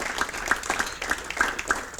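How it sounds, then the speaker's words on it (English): Audience applause at a golf hall of fame induction ceremony, a moderate round of clapping from a seated crowd with distinct individual claps standing out, heard somewhat distant in the room. "so if we could hold our applause to the end"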